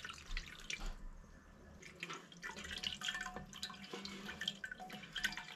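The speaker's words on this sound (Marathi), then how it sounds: "तर परत एकदां उदक घालता पळयात" Water poured into strained finger millet (nachni) pulp to draw out its remaining juice, a soft, steady trickling and dripping with small splashes, close and continuous throughout.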